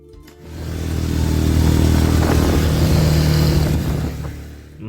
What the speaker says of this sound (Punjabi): ਬਾਈਕ ਦੀ ਇੰਜਨ ਨੋਇਜ਼ ਤੋਂ ਤੁਸੀਂ ਅੰਦਾਜ਼ਾ ਲਾ ਸਕਦੇ ਹੋ ਕਿ ਬਾਈਕ ਫਾਰਵਰਡ ਜਾਣ ਵਾਸਤੇ ਕਿੰਨੀ ਜ਼ਿਆਦਾ ਸਟਰਗਲ ਕਰ ਰਹੀ ਸੀ